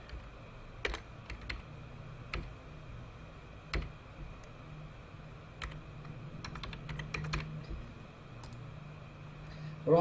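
Quiet keystrokes on a computer keyboard come in short irregular bursts and single taps while a visa application form is filled in online, heard alone against faint background hiss.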